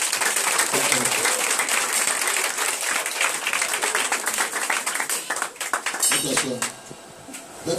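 A church congregation claps and cheers in praise of Jesus, a sustained burst of crowd applause that fades near the end, with a voice speaking over it.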